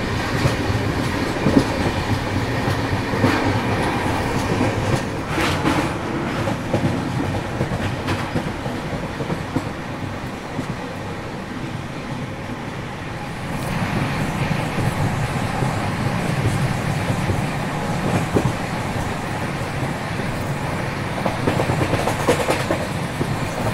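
The 12842 Coromandel Express rolls along the rails near Balasore with a continuous loud rumble and rattle of carriages and faint intermittent clacking over joints, heard steadily throughout.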